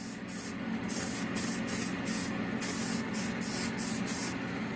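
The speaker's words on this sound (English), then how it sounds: "We're going to go ahead, hit it with our spray paint." Aerosol spray paint hissing onto a sun-faded 20-year-old plastic truck grill, a steady run of short bursts in a quick, fairly even rhythm, close and alone.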